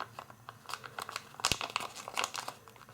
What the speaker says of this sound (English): make a mountain fold here to maybe halfway or not quite, and then fold it down in a slight angle